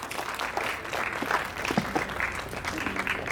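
An audience claps at a college NSS farewell event, a brief, dense burst of steady applause at moderate distance with no voices over it.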